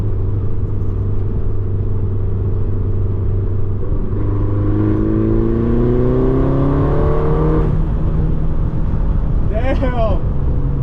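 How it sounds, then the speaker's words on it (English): A modified manual Mini Cooper S engine drives on a road, its loud, steady drone rising in pitch as the car accelerates through a gear, then dropping back before revving again near the end. "Holy crap, this car is really loud."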